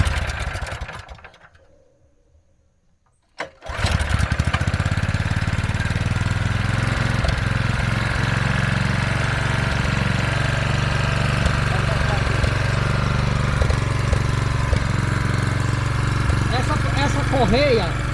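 A small homemade vehicle's engine starts after a brief quiet pause, then runs loud and steady with a rough, buzzing, lawn-mower-like drone that continues to the end.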